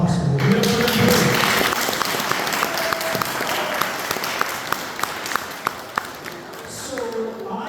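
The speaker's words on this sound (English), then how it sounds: "give a round of applause to everybody who made this building possible" A crowd at a heritage brick mill rally gives a sustained round of applause, dense clapping with a few louder individual claps standing out as it tapers off toward the end.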